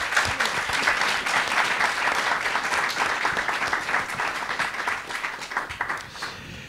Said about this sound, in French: On pourrait peut-être déjà les applaudir